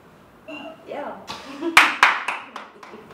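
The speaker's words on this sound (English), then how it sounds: "Clapping myself." A person claps their own hands a handful of times in short, uneven bursts, close and fairly loud, while people chat and laugh around them.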